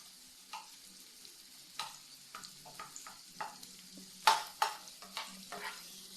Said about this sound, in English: And then I'm going to add the tomatoes.